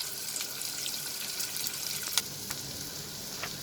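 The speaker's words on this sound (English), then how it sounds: "After a minute of sauteing the onion and the green chilies together, my onion is almost done." Onion and green chilies sautéing in a pan for a prawn stir fry, a soft continuous sizzle with a few light clicks and scrapes of stirring, no voices.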